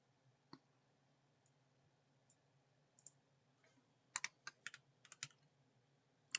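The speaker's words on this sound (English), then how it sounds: "I'm just typing it so I don't forget it." Light clicking of keys on a computer keyboard, sparse taps at first and then a quicker burst of typing, close and soft in a quiet room with no talking.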